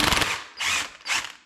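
An impact wrench works a nut off a Honda XR80R engine in three short bursts, first a rattling hammer and then two whining whirs, close and fairly loud.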